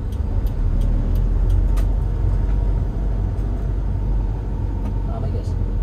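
Low engine rumble of a 2013 Toyota Hiace Commuter minibus moving slowly through traffic in second gear after a downshift, with steady road noise and faint ticking.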